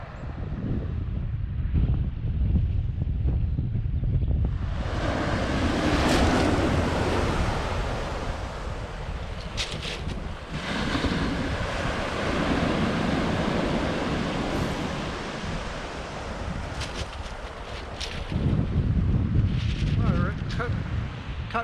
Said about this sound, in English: Stony Beach, I think it's like this all the way along. Incredibly steep cliffs behind us.